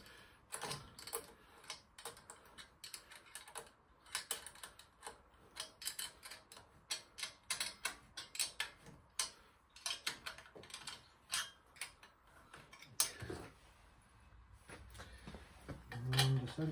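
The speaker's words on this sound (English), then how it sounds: "Couple more turns just to nip it tight. Just nip these up now." Exhaust bolts being tightened on a Skyteam ST125 motorcycle during a stainless exhaust upgrade, giving fairly faint, close bursts of quick ratcheting clicks and metallic ticks.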